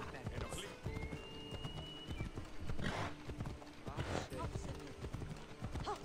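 Horse hooves clip-clop in Assassin's Creed Odyssey, a rapid, uneven clatter of hoofbeats close by with a horse whinnying, mixed with game voices and other game noise.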